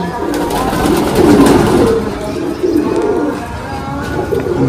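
Golden Kamagar pigeons coo close by in repeated low, throaty rolling calls, with faint voices underneath.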